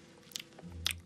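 Someone bites into a sausage, two sharp crisp snaps of the bite with soft chewing between them, close and quiet.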